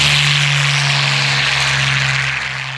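Loud, steady drone of a Curtiss Kittyhawk's WWII-era propeller aircraft engine, a strong low hum with a broad wash of noise, heard close and without talk.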